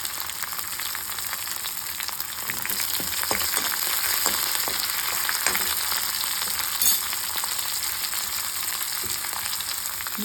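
Dried red chillies, garlic, curry leaves and green chillies fry steadily in hot oil, giving a continuous close crackling sizzle with scattered sharper pops and no voices.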